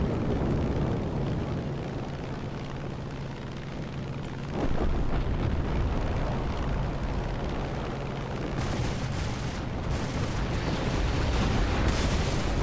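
Rocket airstrike explosions in War Thunder, heard from a Soviet tank battle: a continuous heavy rumbling roar with a deeper booming surge midway and scattered crackling bursts toward the end, no voices.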